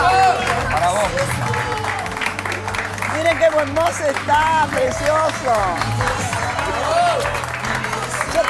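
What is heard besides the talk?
studio audience applause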